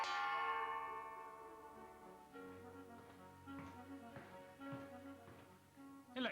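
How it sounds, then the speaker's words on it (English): An electric dinner gong in a Victorian house rings out with a bright struck tone that decays slowly, followed by a run of softer, quicker metallic strikes. "they saved muscle power and lung power by using an electric dinner gong"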